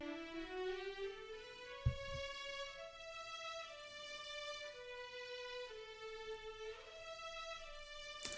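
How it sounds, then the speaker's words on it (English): Sampled Spitfire Audio studio strings, with a viola carrying a slow harmony line of sustained legato notes, soft and steady with no talking. "And then we have our viola, which is doing like a harmony."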